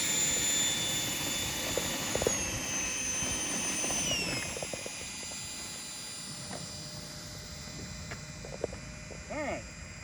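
Phoenix 90mm Preceptor model jet flying overhead, a steady turbine whine with a falling pitch sweep as it passes, moderately loud and continuous over outdoor background noise.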